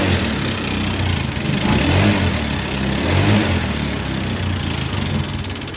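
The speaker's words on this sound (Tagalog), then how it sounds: "Yan, ito tayo sa may part ng tambucho. Tapos i-accelerate ko." A Honda Click 150 scooter with loud ticking and heavy smoke, heard close at the exhaust as its engine revs in a steady, loud, rough drone with slight swells, without speech.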